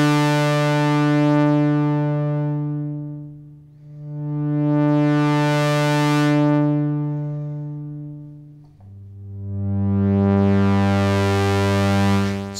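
A Tom Oberheim Two Voice Pro analog synthesizer holds a steady tone while its filter cutoff is swept, opening and closing three times, brightening into a buzzy peak then dulling again, with the held note changing before the last sweep.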